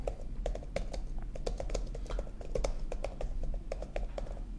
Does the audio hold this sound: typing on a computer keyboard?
yes